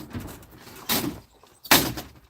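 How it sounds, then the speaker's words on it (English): Two loud, sharp door slams about a second apart in a home, each a sudden bang with a short decay, no talking. "Quit slamming the door."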